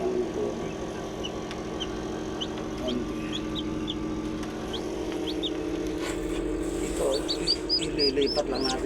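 Newly hatched chicks chirp in an egg incubator, with high, short peeps that come in scattered bursts over a steady machine hum and grow busier toward the end.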